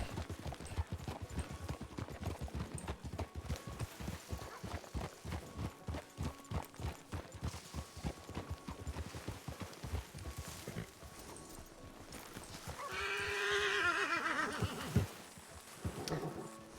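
In the RedM western roleplay game, a horse's hooves clip-clop in a steady, rhythmic trot for most of the stretch, then the horse lets out a loud, drawn-out whinny near the end.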